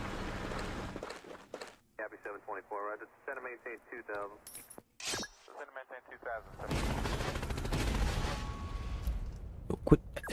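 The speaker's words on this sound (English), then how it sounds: "quit shelling me" Artillery shelling in the video game Noobs In Combat: Cold Front: sharp blasts and crackling, rumbling impacts mixed with game effects, building into a sustained loud barrage near the end, with a voice talking over parts of it.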